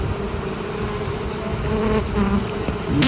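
Honey bees buzz in a dense, continuous hum at night, close by, with a few individual bees droning louder over the swarm of about 45,000 on a tree.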